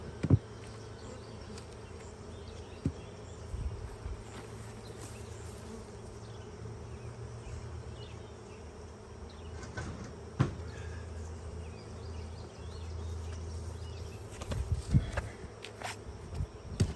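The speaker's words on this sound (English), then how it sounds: "They're buzzing it up in there, that's for sure." Honeybees buzzing inside a beehive during an inspection, a steady low drone throughout with occasional knocks and handling sounds of the hive.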